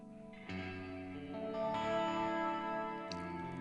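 A sustained electric guitar chord rings through a Neunaber Illumine reverb pedal with depth set at the midpoint, then a fresh strum swells into a lush, lingering wash of reverb and a soft shimmering tail.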